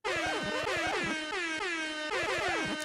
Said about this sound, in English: You get the air horn